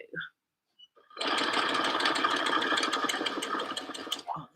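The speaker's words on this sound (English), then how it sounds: "we're just going to stitch all the way along this seam, popping out those pins as we" A sewing machine runs steadily along a dress seam, a close, continuous whirring drone of rapid stitching lasting a few seconds after a brief pause, with no talk over it.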